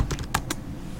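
A few quick keystrokes on a computer keyboard, close and fairly quiet, with small clicks over a low background hum.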